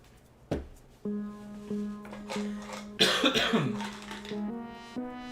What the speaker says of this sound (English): acid reflux coughing here.